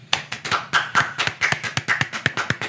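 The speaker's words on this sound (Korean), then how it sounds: "일단 묻지도 따지지도 않고 박수 한번 치고 시작하겠습니다" People clap together in a quick, fairly steady rhythm, around a dozen and a half crisp claps close by with no talking over them.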